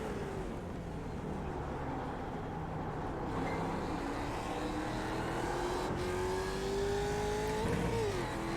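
A race car engine in a racing video game, a continuous moderate drone whose pitch climbs steadily as the car accelerates, then drops sharply near the end.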